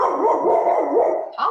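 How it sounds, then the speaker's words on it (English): A dog barks loudly and near in a home, giving a run of rapid, high, whining yelps that rise and fall, then a sharper bark at the end. "my dog went off"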